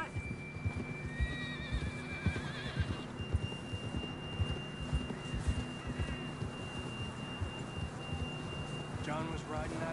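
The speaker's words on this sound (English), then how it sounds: "John was riding that horse when we left Blackwater." A horse whinnies repeatedly in Red Dead Redemption 2, shrill wavering neighs over a steady low hum and faint hoof thuds, moderately close in a quiet outdoor game scene.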